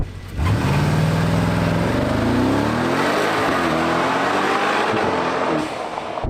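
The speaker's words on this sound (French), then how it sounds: "la sonorité ultra rauque de son échappement" A Brabus XLP 900 pickup truck's 900-horsepower engine revs hard with a deep, rough exhaust note, rising in pitch and holding loud before easing slightly at the end.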